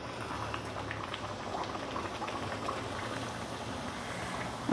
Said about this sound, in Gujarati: હવે એને આપણે તરી લઈશું.